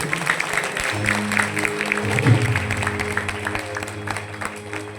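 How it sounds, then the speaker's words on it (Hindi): A crowd at a Shyam bhajan gathering claps with both hands raised. The clapping is steady and dense, set against sustained low musical tones and some voice. "एक बार दोनों हाथ उठा करके तालियां बजाओ"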